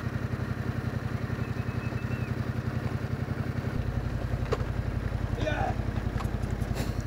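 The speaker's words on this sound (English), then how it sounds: "Little Mexican traffic jam." Idling motorcycles and car engines fill a Mexican traffic jam with a close, steady rhythmic putter. The rumble deepens partway through and a few faint higher tones sound over the top.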